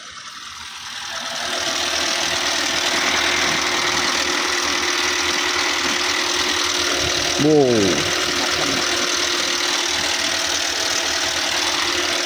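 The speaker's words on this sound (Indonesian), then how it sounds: "suara mesin itu kasar" A car engine runs rough at idle, a steady uneven mid-pitched drone with knocking vibration that continues evenly throughout, close by, and a brief exclamation from a voice near the middle.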